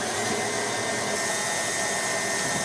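An electric hand mixer beats chocolate chip cookie dough at medium speed, giving a steady, dense whirring drone that holds at an even level for the whole stretch, close and alone with no talking.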